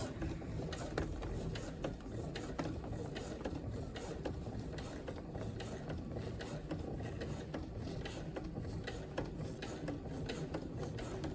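A sewing machine running a line of stitching through denim jeans: a steady, fast mechanical whirring and ticking that continues unbroken throughout at an even, moderate level, with no speech.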